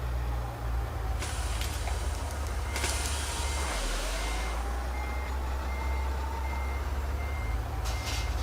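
An old Ural 4320 long-chassis truck backs up in Euro Truck Simulator 2, its reversing alarm beeping repeatedly over a loud, steady diesel rumble, with bursts of air hiss along the way.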